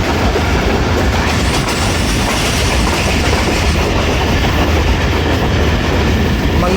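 The 48 Down Rehman Baba Express train passes through Mankiala near a level crossing, with a loud, steady roar of wheels and a clickety-clack of rail cars running continuously and close by.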